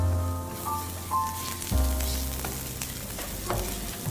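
Cumin seeds fry in hot oil with a lively crackling sizzle close by, broken by a few louder bumps and scrapes as the pan is stirred.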